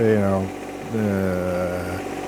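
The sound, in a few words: John Deere 1025R tractor engine idling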